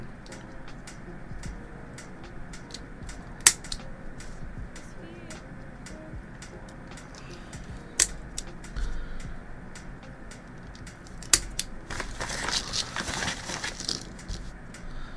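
Parts clicking and tapping together as a mechanical keyboard, the Ace XT 40, is assembled without stabilizers: scattered sharp clicks and a few louder snaps over low background noise and occasional talk.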